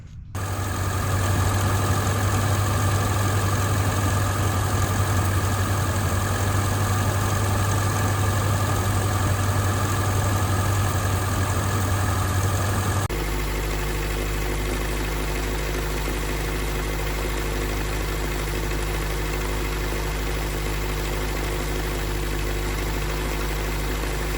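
The engine of a Willys Jeep pickup with a leaking oil seal runs at a steady idle, a loud continuous hum and vibration that abruptly changes character partway through and continues unbroken with no speech.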